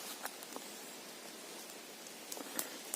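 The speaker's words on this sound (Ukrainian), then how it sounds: "Похмуро так дощик накрапує." Light drizzle patters faintly and steadily in a quiet forest in October, Khmelnytskyi region, Ukraine, with a few soft isolated drops and rustles standing out.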